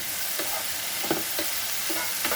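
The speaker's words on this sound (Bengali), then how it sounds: "এখন আমি এটা ভালো করে হতে দেবো হাই ফ্লেমে, ঢাকা দিয়ে ভাজা ভাজা" Ridge gourd and potato fry in a pan on high flame, an even close sizzle with soft periodic scrapes of stirring, and no talk.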